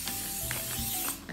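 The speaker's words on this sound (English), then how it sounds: "This is just a regular canola spray by Trader Joe's" Short hissing bursts of an aerosol canola oil cooking spray can coating a baking pan, a few quick pulses mixed with faint clicking of the nozzle, close by.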